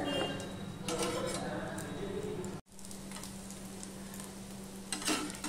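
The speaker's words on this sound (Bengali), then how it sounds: "মিডিয়াম টু লোতে দিয়ে আমি এই পরোটাগুলো সব ভেজে নেব এইভাবে" Egg parathas frying in a pan over medium-low heat, a soft steady sizzle and crackle that runs throughout, quiet and close, with someone talking over it.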